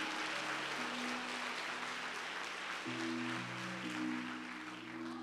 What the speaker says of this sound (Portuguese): Agora dê para Deus essas palmas.